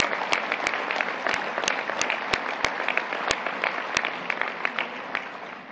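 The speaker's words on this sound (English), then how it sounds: "appreciate the applause" Audience members at a U.S. Soccer National Council meeting clap together in a sustained, even round of applause, moderately loud and continuous with sharper individual claps popping out, no voices on top.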